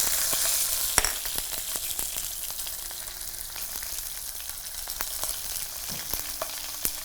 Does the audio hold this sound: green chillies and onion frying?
yes